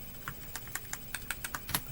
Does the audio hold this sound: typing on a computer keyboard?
yes